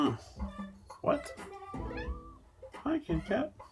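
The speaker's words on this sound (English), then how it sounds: "I don't know if you can hear the cat in the background" A pet cat just waking up meows several times in the background, the calls mixed with a person talking nearby.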